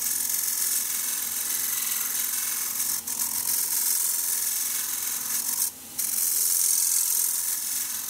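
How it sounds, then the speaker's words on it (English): A steady, continuous rasping scrape of a scraper making a finishing cut on wood spinning on a lathe, sustained throughout with a couple of brief dips, close and fairly loud. "It's a nice finishing cut there now with the scraper."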